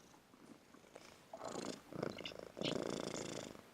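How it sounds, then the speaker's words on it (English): A cat named Tig purring in a steady, rumbling flutter that swells louder in the second half, close and alone with no talk over it. "We could just have Tig purring."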